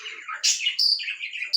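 A village parrot calls in a short run of bright, chirpy squawks and tweets, close and fairly loud, with brief gaps between notes and no talk.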